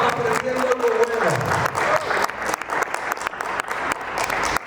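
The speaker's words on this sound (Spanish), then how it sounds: "¿Cuánto le damos un fuerte aplauso al rey?" A church congregation breaks into loud, sustained applause during a sermon, with a few raised voices and a brief sung note early on within the dense clapping.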